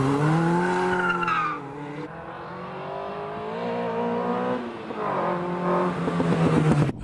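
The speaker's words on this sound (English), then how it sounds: "We've got this Caterham Super 7 on the hill" A Caterham Super 7 race car on the Prescott hill climb, engine revving hard and climbing through the gears, loud and fairly close, with the pitch rising and dropping on each shift and no talk.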